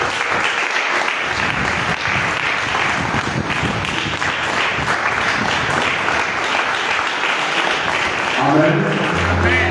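A church congregation at a Christian restoration centre applauds and cheers, loud continuous clapping filling the room, with a voice and low tones breaking in at the very end.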